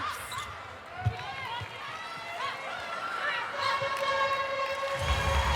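A Power 5 siren sounds in a large arena at a Fever versus Firebirds Super Netball match over crowd noise and a commentator's voice, rising to a steady loud tone near the end.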